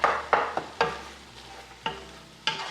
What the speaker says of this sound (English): So I'm gonna let this cook a little bit before I add the spaghetti sauce